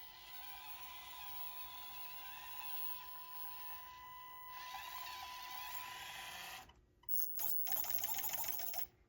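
An Axial SCX24 Jeep Gladiator RC crawler runs with a fast, whirring servo and motor buzz, steady for several seconds and then breaking into short bursts of mechanical whine and ratcheting gear noise, close and alone.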